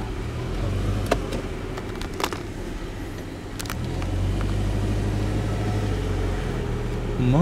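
A car engine rumbles steadily and swells as a vehicle moves past nearby, with a few sharp clicks over the drone; no talking.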